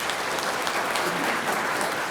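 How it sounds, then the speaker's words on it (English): Audience at a national architecture conference opening ceremony applauding a speaker taking the stage, a dense, even wash of clapping that holds steady and fairly loud from start to finish. "Please welcome Architect Rita So with a big round of applause"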